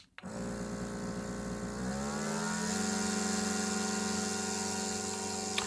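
A Pacum travel vacuum compressor starts up and hums steadily and close, its motor pitch shifting slightly as it draws air out of a bag, with no talking.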